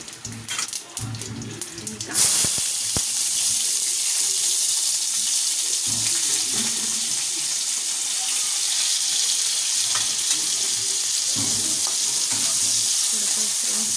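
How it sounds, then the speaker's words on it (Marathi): Cumin and mustard seeds sizzle hard in hot oil in a home kitchen, a loud continuous crackling hiss after a short burst of clatter, with a few brief stirring scrapes. "जिरे ॲड करते, राई पण ॲड करते आता"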